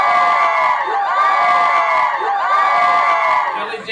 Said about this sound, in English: Everybody turn and scream at the camera.